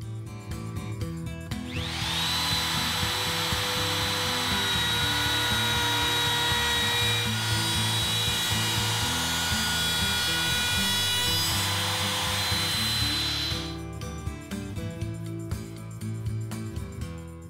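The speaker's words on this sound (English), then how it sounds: "this will help hold the molding while I push the router along" A wood router cuts a decorative flute along a length of wood molding held in a clamped jig on a work table, a loud, steady high-pitched whine sustained for about twelve seconds between quieter stretches of workshop noise.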